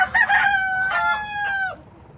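A young hen of the tinted breed, about 120 days old and kept in a backyard flock, gives a loud, close, drawn-out crow-like call with a few clucks, alone without talking.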